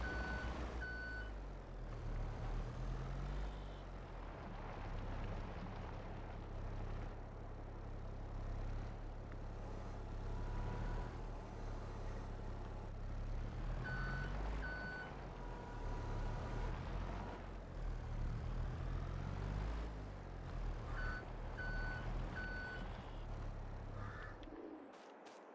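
Truck reversing beeps in Farming Simulator 22 sound in repeated short bursts over a steady low engine drone, with faint bird cooing in the background before everything cuts out at the end.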